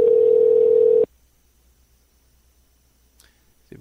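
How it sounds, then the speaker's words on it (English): A single loud, steady electronic telephone tone sounds on a call for about a second, then cuts off into near silence before faint clicks return at the end. "It's been ringing a couple of times."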